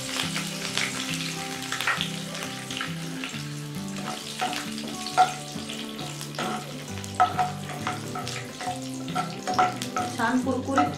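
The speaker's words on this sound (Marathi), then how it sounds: "आता या तेलात आपण कढीपत्ता तळून घेणार आहोत." Curry leaves fry in a little oil for traditional village-style poha chivda, giving a close, crackling sizzle with spatula scrapes and stirring bumps, while someone talks over the cooking.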